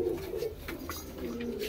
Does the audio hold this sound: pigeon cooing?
yes